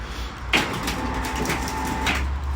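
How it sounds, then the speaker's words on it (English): An electric shutter door running with a steady motor whine and repeated rattling clanks from the moving slats, loud and close, with no talking. "it's got an electric shutter door"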